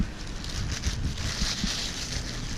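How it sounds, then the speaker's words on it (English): Wind gusts buffet the microphone, producing a rough, continuous rumble and whoosh that swells slightly throughout. "It's windy."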